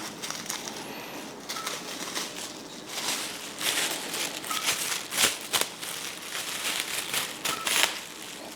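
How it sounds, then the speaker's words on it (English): Plastic bag being cut in half with scissors or a knife in a home kitchen, close crinkling and rustling of thin plastic with sharp snips and crackles scattered through, no voice. "We're gonna cut the plastic bag."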